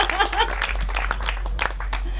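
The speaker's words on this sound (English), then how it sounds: "Deserves a great round of applause" A small audience at a political affiliates panel claps briefly while voices talk over it, the scattered handclaps sitting under speech with a steady low mains hum beneath.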